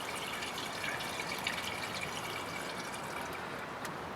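Cooling system additive trickles from a bottle into a 1977 Chevy C10 truck radiator, a steady close liquid pour and gurgle lasting throughout with no talk.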